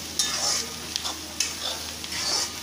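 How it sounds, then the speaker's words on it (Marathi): Chopped onion, with a pinch of soda added, fries in a pan for a whole masoor curry, giving a steady close sizzle broken by intermittent scraping from a stirring spoon, with no talking. "हे कांदा बराच वेळ भाजून घ्यायचा आहे आपल्याला"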